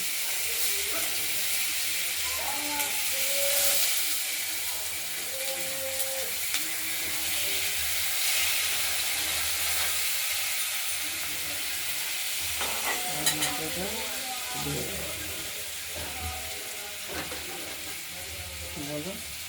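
Tomatoes, turmeric and spices sizzle steadily in hot oil for a potato, coriander and fish curry, a continuous frying hiss with occasional stirring scrapes and light knocks, fairly close and without a break.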